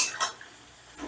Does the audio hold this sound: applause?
no